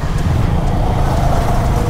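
Road traffic rumbles along highway NH 117 on the way from Kolkata to Bakkhali, a loud, continuous wash of passing vehicles heard close from a moving motorbike, with wind noise and no talk.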